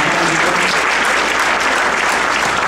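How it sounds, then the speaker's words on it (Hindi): A dense, sustained burst of audience applause fills a Hindi comic poetry recital at a kavi sammelan, loud and steady throughout with no speech over it. "एक बार तालियां बजाकर"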